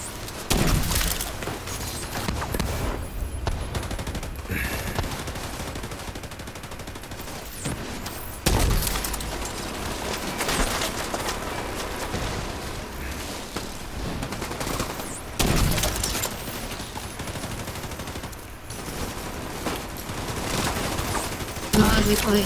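Rapid bursts of gunfire crackle through a French-language online arena shooter match, sniper shots mixed with automatic fire and explosions, loud and near with a player talking over much of it.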